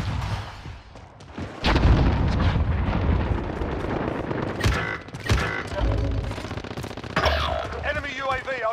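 Flashbang grenade and gunfire in a multiplayer shooter game: loud, dense bursts of rapid gunfire and blasts, with sharp explosive hits near the two-second mark and again around five and seven seconds, under game chatter.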